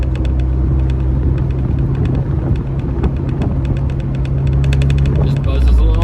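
A 1986 Alfa Romeo Spider Veloce cruises along with a steady, loud engine drone and road rumble heard from inside the car, with a faint rhythmic ticking layered over the hum.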